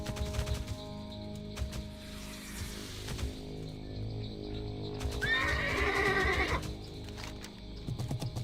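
A horse mount in World of Warcraft (TBC Classic) neighs in a loud, bright whinny around the middle, set among busy game ambience with scattered hits and clattering effects.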